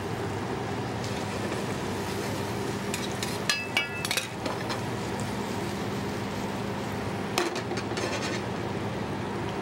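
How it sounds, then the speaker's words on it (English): Crab meat and scallops cook in a frying pan with a steady sizzle throughout, broken by a few clinks and scrapes of a utensil against the pan. "And add this all to our frying pan."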